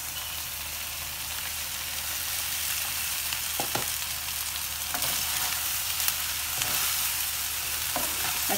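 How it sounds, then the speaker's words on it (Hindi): Vegetables and rice frying in a pan for egg fried rice, a steady broadband sizzle throughout with a few brief clinks and stirring scrapes, close and fairly loud, no talking. "अब मैं ऐड करने जा रही हूँ राइस।"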